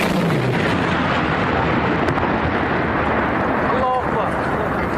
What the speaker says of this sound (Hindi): सीरिया में आईसिस के आत्मघाती कार में धमाका हुआ है।